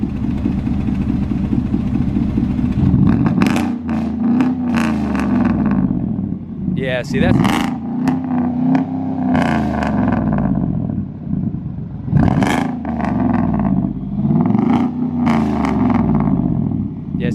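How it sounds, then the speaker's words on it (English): A truck with true dual exhaust revving from idle, several deep throaty surges that rise and fall close by, while people talk over and between the revs. "Can you rev it? Yeah, rev it one time for me."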